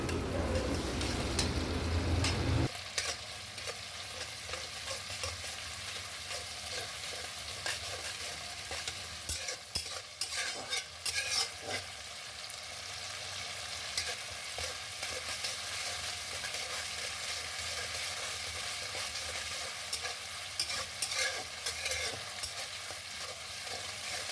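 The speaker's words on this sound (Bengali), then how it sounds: "আদা বাটা দিয়ে ভালো করে কষতে থাকবো মশলাটা।" Spice masala with ginger paste stir-fried in a pan for a Bengali vegetarian aloo dum, giving a steady, close sizzle with scraping stir strokes; loudest for the first few seconds, then an even frying hiss throughout.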